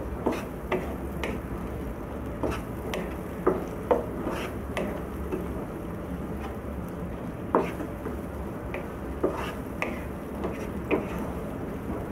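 Tomato with noodle spice mix cooking in a pan, giving a low steady simmer with soft scattered taps and stirring scrapes, fairly quiet and close, with no talk.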